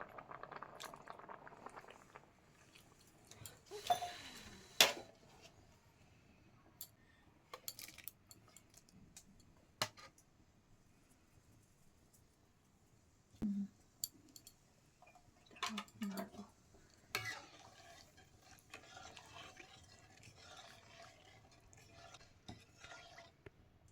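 Jaggery payesh being stirred in a pot over a clay stove, with intermittent scraping and clinking strokes, soft bubbling between them, and quiet voices talking at times.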